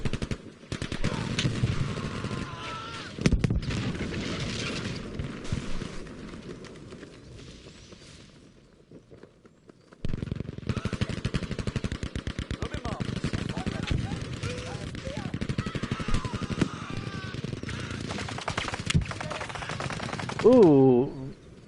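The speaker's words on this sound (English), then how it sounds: "JJ Ferretti blasting him with the shotgun." Gunfire and explosions in the Frontlines video game during an HNR versus ECU match, with dense rapid machine-gun bursts, shotgun blasts and Panzerfaust rockets hitting a building, loud and continuous apart from a brief lull midway.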